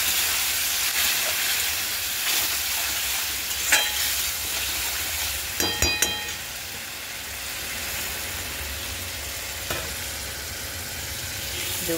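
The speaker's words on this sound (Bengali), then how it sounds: "কষিয়ে দিয়ে এবার এই গরম জলটা একটুখানি ঢেলে দেবো।" Hot water poured into a spice mix frying in a pan for a Bengali fish curry, giving a continuous hiss and sizzle, with a few sharp clinks of a utensil against the pan.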